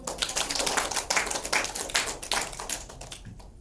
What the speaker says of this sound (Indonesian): Baik, kita aplaus untuk